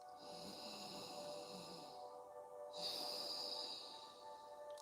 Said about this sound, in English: Inhale and exhale through your nose. Take long, deep breaths.